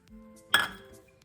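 Lentils dropped into a glass bowl for Ugadi pachadi give a single bright clink with a short ringing tail in an otherwise quiet moment.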